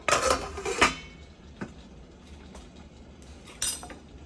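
Metal modak steamer pots and a lid clank and clink inside a kadhai, a loud cluster of clatters at the start, another knock just before one second, then scattered light taps and a final clink near the end.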